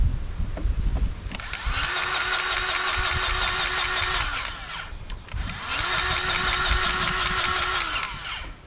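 Engine of a tractor servicing a Rhino 3150 bush hog runs steadily at close range in two long bursts, a brief dip and restart between them, with a bright mechanical whine over a low rumble.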